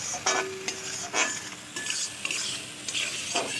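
Poppy seed paste stirred in a pan for an egg curry made without ginger or garlic, with a close, repeated scraping of the spoon against the pan over a low sizzle and occasional light clinks.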